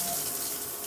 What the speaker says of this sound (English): The shower pressure is pretty good.